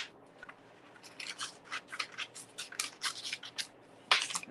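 Scissors snip through a stamped cardstock piece during paper crafting, a quick run of close, crisp cuts in an uneven rhythm, with one sharper snip near the end and no talking.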